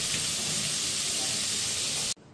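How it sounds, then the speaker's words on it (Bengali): Pieces of chicken fry in a pan over a gas stove while making butter chicken, giving off a loud, steady hiss that cuts off abruptly near the end. "এবার চিকেনটা আস্তে আস্তে একটু ভাজা হবে।"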